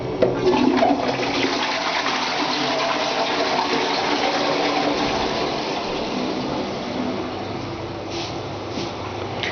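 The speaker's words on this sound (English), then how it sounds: "And the toilet, and the way you flush them is to push here." A toilet in a public washroom at Insel Ruegen, Germany, is flushed by a push button, giving a loud, close rushing gush of water that keeps on steadily for several seconds.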